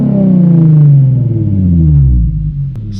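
An Infiniti G35 with a muffler delete revs loudly up close, then its deep exhaust note drops steadily in pitch as it comes off throttle. A short, sharp exhaust pop sounds near the end.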